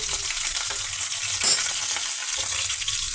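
Mustard seeds and split lentils sizzle in hot oil for a tempering, with a steady close frying hiss, a brief louder splash of crackle midway, and no talking.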